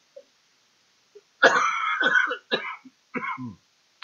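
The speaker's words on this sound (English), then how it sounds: "I had to cough there for a second" A few sharp, hoarse coughs close up, in two bursts with brief pauses between, with no talking around them.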